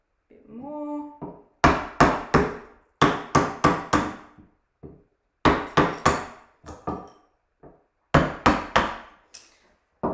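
Sharp, loud, resonant blows split out wood for carving, striking in quick clusters of two or three with short gaps between, close by.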